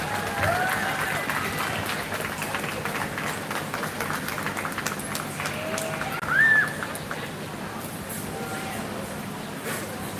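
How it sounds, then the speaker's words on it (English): An audience applauds at a 4-H and FFA sheep show at the 2024 Lancaster County Super Fair, a steady wash of clapping with a brief swell partway through, heard from within the crowd. "you can keep another big round of applause"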